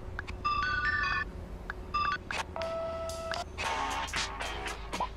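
Series of electronic phone ringtone melodies and beeping tones in Grand Theft Auto V, each playing briefly before switching to another, over a faint steady background hum.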